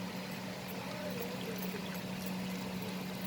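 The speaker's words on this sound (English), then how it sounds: "So slowly I'm going to add the water to this mixture." Water pours slowly and steadily into a potato wedge batter mixture, a continuous soft splashing trickle over a low kitchen hum, with no talking.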